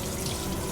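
Tap water running steadily into a kitchen sink while cut potatoes are rinsed, a close, continuous splashing rush in a very short burst, no talk.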